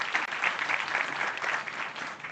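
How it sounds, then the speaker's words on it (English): Dense audience applause fills a seminar hall after a civil and nuclear engineer is introduced at a South African nuclear seminar, steady and fairly loud for its short span. "Round of applause."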